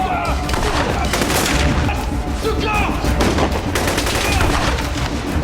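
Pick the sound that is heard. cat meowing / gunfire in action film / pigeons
gunfire in action film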